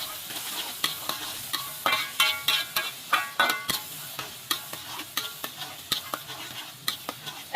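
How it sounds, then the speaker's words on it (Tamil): Fried rice noodles with beef and salt, Penang-style bihun goreng, stirred in a pan: a steady sizzle runs under rhythmic, crisp scraping and clinking strokes of a spatula, close and fairly loud, with no talk. "நல்லா உப்பு சேர்த்து கிண்டி விட்டுருங்க."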